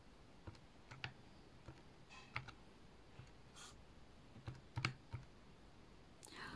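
Keys tapped on a calculator or keyboard while values are entered, giving faint, sparse clicks in small irregular clusters against quiet room noise.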